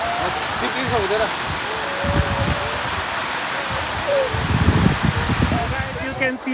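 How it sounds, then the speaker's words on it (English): Waterfall at Suhaila Dam, a steady broadband rush of falling water filling the scene, with low thumps and brief bursts of handling or movement nearby and faint voices mixed in. "You can see the beautiful waterfall here, and we already enjoying it."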